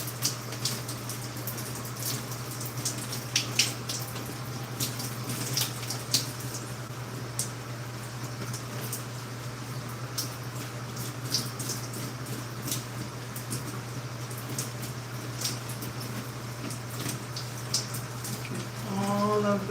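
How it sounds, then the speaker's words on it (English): Steady running water from a shower or tap rinsing styling product out of curly hair, a continuous close hiss with occasional squishy splashes and small spikes, no talking. "I want to rinse my hair and get all the product out."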